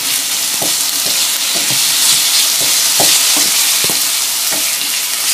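Chopped tomato added to onions frying in a pan for Indomie instant noodles, a loud continuous sizzle with soft scraping stir strokes recurring under it, close up and without speech.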